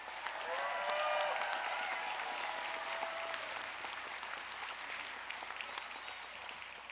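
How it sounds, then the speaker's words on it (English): Sustained applause from a large audience at a College of Pharmacy commencement ceremony, a steady dense clapping that holds for several seconds and fades slightly toward the end. "please join me in giving a round of applause for all of the faculty staff"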